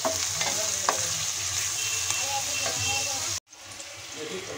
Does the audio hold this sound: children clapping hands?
no